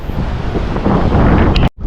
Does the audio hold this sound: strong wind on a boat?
yes